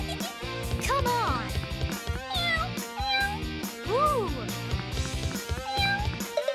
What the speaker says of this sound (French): Le chat veut de l'attention.